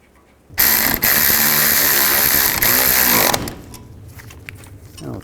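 A power tool runs in one loud, steady burst of nearly three seconds, tightening the rear brake caliper bolts on a 1998–2010 Volkswagen Beetle, then cuts off into faint workshop noise.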